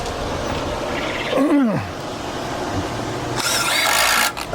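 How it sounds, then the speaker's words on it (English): A power drill driving screws into a pallet wood shelf, whining motor bursts that rise and fall in pitch as each screw bites, close and loud with a high-pitched run near the end. "let's put the rest of our screws in"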